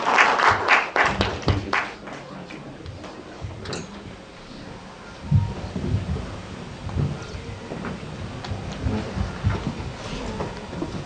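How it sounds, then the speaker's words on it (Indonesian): A church congregation breaks into applause, a burst of dense clapping at the start that thins into scattered claps and murmuring, then swells again in a second round of applause. "Lagi berikan tepuk tangan untuk Pak Hengki ya"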